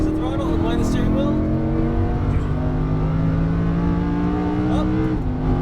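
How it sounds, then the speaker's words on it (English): A Lamborghini Huracán's engine rises under throttle on a race track, a loud, sustained climbing roar that stays close and steady throughout, with a brief dip and shift near the end and a voice talking over it. "Squeezing the throttle now, back to the right."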